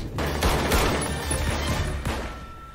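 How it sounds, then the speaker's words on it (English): Gunfire from the action film John Wick: Chapter 2, a dense, loud burst of shots and crashing impacts running continuously through the whole stretch, with no talk over it. "he loves shooting people in the knee!"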